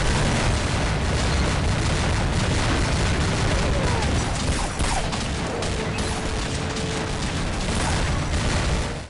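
Grenades from the Thanatos-5 weapon go off in Counter-Strike Online, giving a dense, loud, unbroken roar of overlapping blasts that runs for about nine seconds before cutting off.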